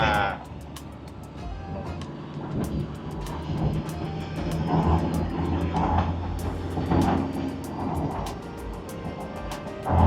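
An old tuned car engine labouring uphill, a continuous low drone that swells and eases in pitch and loudness, with people talking over it throughout.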